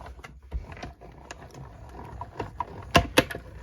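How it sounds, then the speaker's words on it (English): A die cutting machine presses a paper project sandwiched between plates, giving soft mechanical rumbling and scattered clicks, then two sharper knocks near the end, fairly quiet overall. "I'll run this through the die cutting machine."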